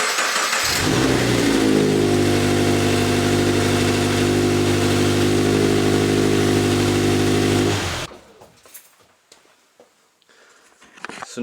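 A Scion FR-S / Subaru BRZ engine runs loudly nearby at a steady idle with its wheel being turned, a strong droning hum that cuts off abruptly near the end, leaving faint rustling and handling noises.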